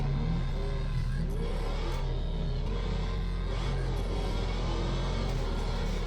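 Car engine in a video game, played on a weak graphics setup, drives on steadily with a continuous mid-pitched hum and a few surges as it revs, close and fairly loud with no talk.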